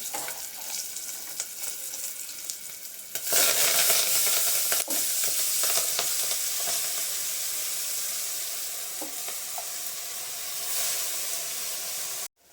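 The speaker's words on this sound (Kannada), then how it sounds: "ಎಣ್ಣೆಗೆ ಈಗ ಸೊಪ್ಪು ಹಾಕ್ತಾ ಇದ್ದೀನಿ" Fresh fenugreek leaves dropped into hot oil already tempered with green chillies, setting off a loud, steady sizzle and hiss that jumps up sharply partway through and keeps frying with occasional stirring, no voices.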